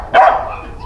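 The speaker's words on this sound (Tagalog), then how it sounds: "Maingay na yung aso eh, di pa naririnig." A dog barks once or twice nearby outside a house on a residential street where a delivery rider waits at the gate, a short loud burst that quickly fades.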